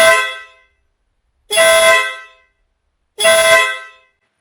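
Denali SoundBomb air horn mounted on a vehicle blasting three loud, close honks of about half a second to a second each, separated by short silences.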